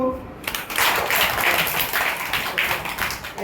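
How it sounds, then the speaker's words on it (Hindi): A group of children claps along during a classroom action-song activity, producing a dense, steady patter of hand claps that lasts a few seconds. "ताली मारो सब"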